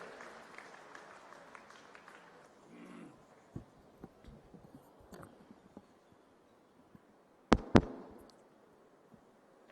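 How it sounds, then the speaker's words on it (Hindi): Loud audience applause greets Union Minister Amit Shah at a Gujarat dairy farmers' event, a dense clapping wash that fades after a few seconds into scattered claps and hall noise, with two sharp knocks near the end. "श्रीमान अमित शाह जी को आइए जोरदार तालियों रूपी आदर के साथ आमंत्रित करते हैं अपने बहुमूल्य मार्गदर्शन के लिए"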